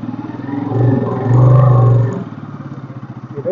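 A motorcycle climbs a steep road in the Sikkim hills, its engine rising in two strong revving surges and then settling into a fast, choppy putter, close and loud with some rattling.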